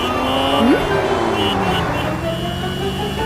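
A car driving along gives a steady engine and road rumble with a brief rising tone near the start, heard close and continuous, as if from inside the moving vehicle.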